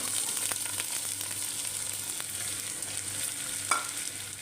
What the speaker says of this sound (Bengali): এবার কিন্তু আমি ডালটাকে ভালো করে নাড়িয়ে নেব তেলের সাথে।